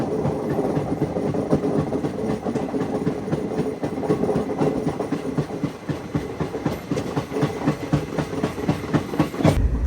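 A special passenger train on the Hyderabad to Arunachalam route heading toward Renigunta Junction rumbles along with steady clickety-clack wheel beats and a constant rolling roar, heard from inside the coach throughout.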